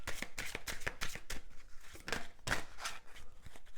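Oracle cards shuffled and drawn from a deck, a close run of dry riffling and flicking bursts with sharp card snaps, steady and busy throughout, no voices.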